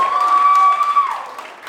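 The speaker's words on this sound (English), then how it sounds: "Clap if you're single." Comedy club audience at a stand-up set clapping and cheering briefly, with a sustained whistle or shout riding over the crowd noise before it tapers off.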